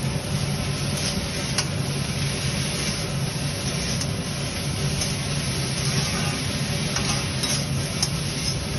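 Ridge gourd frying in a pan, giving a steady continuous sizzle with faint occasional clicks of stirring, no voice over it.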